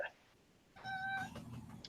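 A cat meows in a drawn-out, tonal call lasting about half a second, close and fairly loud, followed by low rumbling handling noise and background voices indoors.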